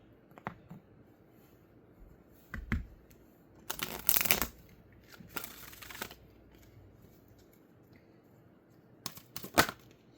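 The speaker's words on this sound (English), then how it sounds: "I'm just going to pull a oracle card and then we'll get started." Oracle cards are shuffled in several short riffling bursts between quiet gaps, close and crisp, with no talking.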